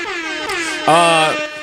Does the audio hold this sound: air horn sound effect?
yes